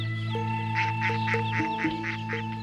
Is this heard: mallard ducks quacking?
yes